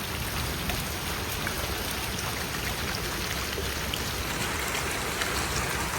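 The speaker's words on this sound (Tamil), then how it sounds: "இப்படி மழை பெய்யுது" Steady rain pours down on a garden in Germany, a dense, even hiss of drops hitting surfaces close by, unbroken for the whole stretch with no voices.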